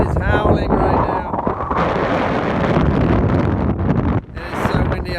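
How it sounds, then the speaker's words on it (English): Strong wind roars across the Death Valley sand dunes and buffets the microphone in a loud, continuous rush, with brief bits of voice at the start and end. "The wind is howling right now."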